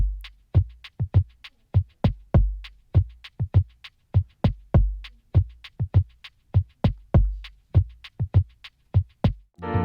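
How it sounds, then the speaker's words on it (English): A looping percussion pattern of deep kick thumps interlocked with crisp shaker hits, steady and close, with no voices. "The shaker and kick part sounds like this."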